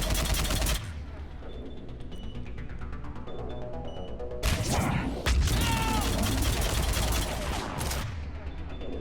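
Gunfire aimed at a harvester in the Mass Effect 3 video game, rapid bursts of shots and booming impacts over a dense, loud battle soundscape with music-like tones underneath.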